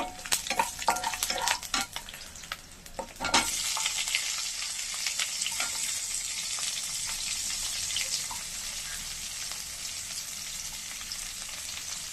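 Onions sauté with red chillies in a pan for carrot chutney, starting with clattering stirring taps and scrapes, then settling into a loud, steady, close sizzle that continues to the end.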